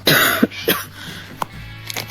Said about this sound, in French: Tu tousses encore?